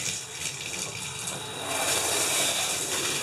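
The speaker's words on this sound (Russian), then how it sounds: "Включаем теплую водичку." A bathroom tap pours warm water into a bathtub, a soft, steady splashing rush heard from nearby. It swells slightly louder partway through, with no voices.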